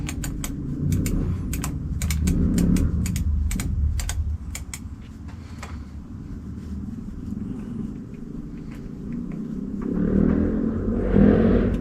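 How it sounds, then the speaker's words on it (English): A motorbike engine revs in a couple of rising swells, a low rumble with sharp clicking sounds scattered over it early on. "Somebody is having a play with a motorbike."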